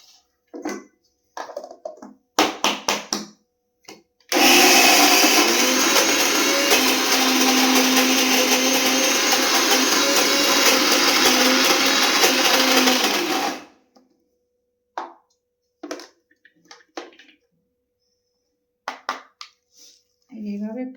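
Mixer grinder blending lentil batter for kach kolar kopta, a loud whirring motor run of about nine seconds that starts and stops abruptly, framed by clattering handling noises and brief speech before and after.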